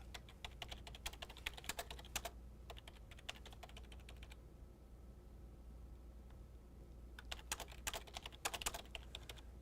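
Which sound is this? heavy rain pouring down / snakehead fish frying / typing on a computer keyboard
typing on a computer keyboard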